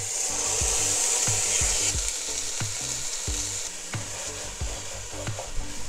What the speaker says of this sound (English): coconut oil goes in, followed by some bruised lemongrass and followed by the rendang curry paste that I just prepared